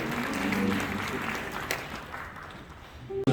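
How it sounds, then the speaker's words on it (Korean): A church congregation applauds in a broad, hissing wash that starts with some voices mixed in, then gradually thins and fades toward the end. "우리 주님께 감사의 박수를 드립니다."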